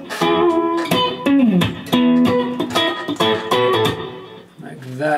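A clean-toned electric guitar plays a riff at measures 93–94, with quick plucked notes, bends and a slide in a steady, close, fairly loud phrase with no talking.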